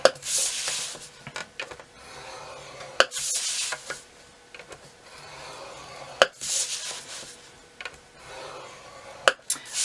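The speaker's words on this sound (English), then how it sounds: "so I'll do all the scoring and get it out of the way" Cardstock is scored on a scoreboard: repeated dry rubbing strokes come in short bursts, each set off by a sharp tap or click, at close range with no talking.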